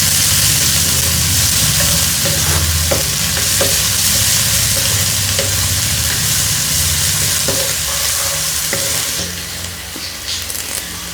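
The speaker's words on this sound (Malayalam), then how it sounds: "ഉള്ളിയും വെളുത്തുള്ളിയൊക്കെ ചതച്ച് വെച്ചേക്കണത് ഇട്ട് വഴറ്റാം." Crushed onions and garlic sauté in a hot pan, a loud continuous sizzle with intermittent stirring scrapes and clicks, steady throughout and fading slightly at the end.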